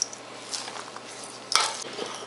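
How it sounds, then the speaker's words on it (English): A spoon scrapes and stirs through a raw meatloaf mixture with chopped onion in a bowl, soft wet clicks with one sharper knock against the bowl. "So mix that up with a spoon a bit."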